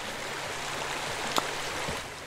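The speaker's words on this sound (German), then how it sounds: "machen wir erstmal hier das Wasser rein. Ja. Füllen das Ganze schon mal auf." Water streams steadily into a pool in Pool Cleaning Simulator, making a constant rushing flow with a brief splashy spike near the middle and no talking.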